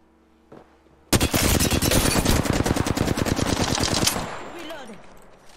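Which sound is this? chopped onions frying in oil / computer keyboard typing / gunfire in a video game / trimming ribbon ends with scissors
gunfire in a video game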